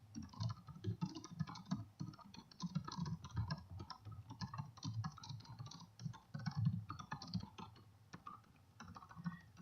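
Computer keyboard typing as a short annotation is entered in a Google Drive document: a steady run of quick, light key clicks, close and moderately quiet, continuing without pause and with no talk over it.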